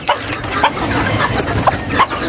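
Chickens cluck in their coop with a series of short, close calls over steady farmyard background noise, and no voices are heard.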